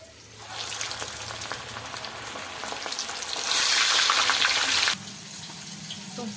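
Fish pieces frying in hot oil give a steady, crackling sizzle that swells loudly for a moment as another fish is dropped in, then eases back to a softer, continuous fry.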